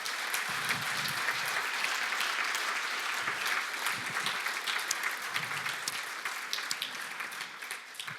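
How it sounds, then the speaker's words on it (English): Sustained applause from a conference audience at a programming keynote fills the room, dense and steady throughout before thinning slightly toward the end. "let's give a round of applause for them."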